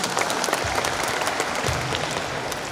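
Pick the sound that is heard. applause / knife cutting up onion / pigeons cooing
applause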